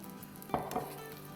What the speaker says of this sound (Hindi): और इसके ऊपर अब अपना पराठा रख देंगे ऐसे। थोड़ा सा तेल आसपास और डालेंगे,